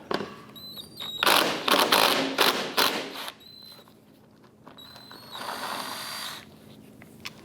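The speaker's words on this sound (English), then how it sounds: "On the bottom passenger side of our bumper, there's a 10mm bolt that goes through a metal clip on the back side. Let's go ahead and try and remove that bolt." A ratchet works a 10mm bolt loose from the lower passenger-side bumper of an Acura TL, with bursts of rapid clicking and handling noise close by and some whirring tones.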